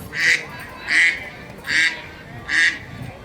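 A duck quacks four times at a steady, evenly spaced rhythm. The quacks are loud and close, with nasal, raspy calls standing out over faint background noise.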